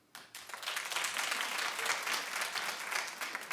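A TV talk show studio audience claps steadily, a dense, even wash of applause that rises after a brief quiet start and holds at full level to the end.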